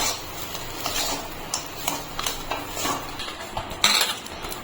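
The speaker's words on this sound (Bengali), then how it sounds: "বাদামটা ভালো করে একটু মিশিয়ে আমি নামিয়ে নেবো পুরটা।" A spoon stirring fried peanuts into a kachori filling in a pan, with close, repeated clinks and scrapes of metal against the pan over a low, steady background.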